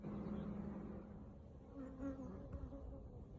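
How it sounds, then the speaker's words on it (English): Close, steady buzzing of many honey bees from a swarm settled in a hive box, a droning hum with individual insects passing near, fairly quiet overall. "the bees that have swarmed into this box"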